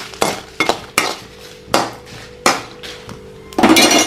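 Dried red chillies roasting with a drop of oil in a pan, heard as a series of sharp metallic scraping and clanking strikes of a utensil against the pan, about seven spaced hits, close and clear, with no talking.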